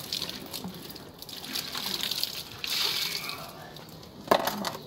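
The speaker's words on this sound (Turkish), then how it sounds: "Şimdi bunu yıkayacağız suyla." Water runs and sloshes inside a water container as it is rinsed out, a close, continuous gushing and trickling with a small splash near the end.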